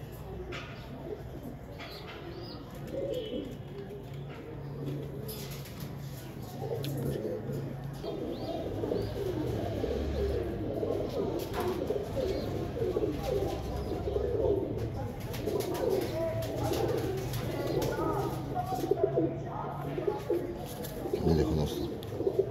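Several pigeons coo in low, throaty murmurs, overlapping continuously at close range with a rustling background.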